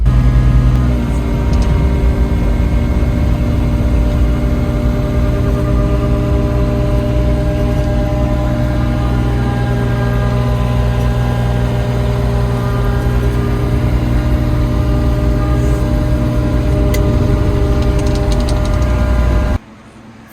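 A brand new digger's diesel engine runs steadily at idle, a loud, even drone with a low hum that holds for the whole stretch and then cuts off abruptly at the very end.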